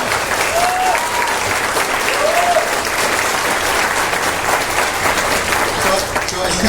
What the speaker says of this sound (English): So, Chris, let's give a big round of applause.